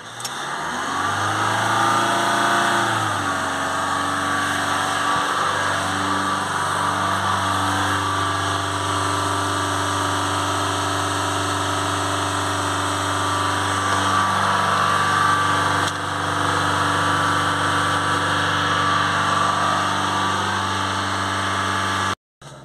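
A car engine held at steady high revs by a pedal depressor during DPF regeneration, loud and continuous, rising at first and then droning evenly for about twenty seconds before cutting off.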